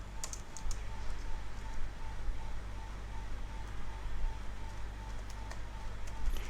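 Keys clattering in quiet, irregular taps as a SQL query is typed on a computer keyboard, faint and close over a steady background hiss, with no talk.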